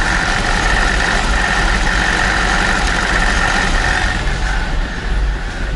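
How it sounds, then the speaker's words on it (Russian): A BMW 7 Series E65 engine idles steadily, close and loud, with fault codes showing for three cylinders; the deep, even hum carries on without a break and no one speaks over it. "Сейчас мотор дам послушать."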